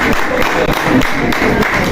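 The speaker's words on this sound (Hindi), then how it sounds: "आपकी जोरदार तालियां चाहिए" Brief burst of audience clapping at a prize distribution ceremony, loud and close, with a voice speaking over it.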